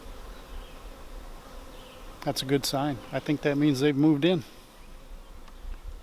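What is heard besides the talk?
honey bees buzzing at a swarm trap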